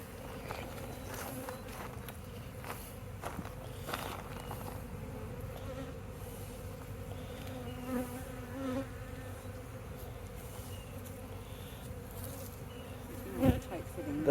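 A dense, steady buzzing of many bees in a hive box hums close by, with occasional soft bumps and shuffles of handling underneath.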